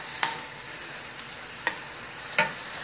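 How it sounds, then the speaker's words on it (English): Beef fried rice with egg and beef being stir-fried in a pan, a steady sizzle broken by a few sharp scraping stirs of the spatula, close and fairly quiet with no talking. "I'm going to add our egg and meat back in. Give that a mix."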